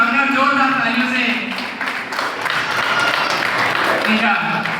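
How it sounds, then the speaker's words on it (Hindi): An audience applauds an award winner at a competition ceremony with sustained clapping, while a voice talks over it for most of the time. "जोरदार तालियों से"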